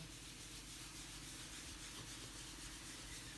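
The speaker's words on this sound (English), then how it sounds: "I'm just simply applying to the guitar like so" A rag works rubbing compound hard across the body of a junior guitar kit, producing a steady, close, continuous rubbing and swishing with no pauses and no voices.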